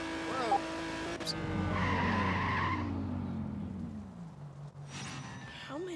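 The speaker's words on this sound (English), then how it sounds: "I just drifted." Car tires skid and squeal through a long drift in the Need for Speed: No Limits racing game, a loud sustained screech with a revving engine underneath, while a voice reacts over it.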